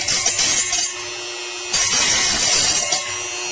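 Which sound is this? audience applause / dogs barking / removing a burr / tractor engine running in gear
removing a burr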